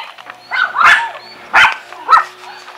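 Several dogs bark at a village homestead, three loud close bursts of barking with short gaps between them and no talk over them.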